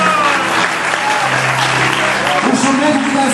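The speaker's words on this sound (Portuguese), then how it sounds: "é as nossas mãos, é as palmas onde nós glorificamos o nome do Senhor" A church congregation claps hands together in praise during a sermon, dense, loud and steady applause with voices and a sustained tone faintly underneath.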